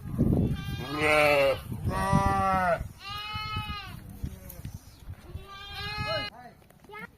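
Sheep grazing on a hillside bleat in loud, drawn-out calls, a few animals in turn at close range, with someone talking between the cries.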